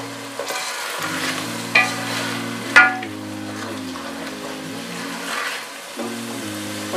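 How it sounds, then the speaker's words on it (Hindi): Tomato paste, spices and lemon juice fry in a pan for chickpea curry, a steady close sizzle with scraping stirs and a couple of sharp utensil knocks, under low background music. "मसाले को अच्छी तरह भून लेंगे।"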